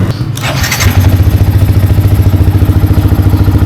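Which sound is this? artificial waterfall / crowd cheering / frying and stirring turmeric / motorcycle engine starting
motorcycle engine starting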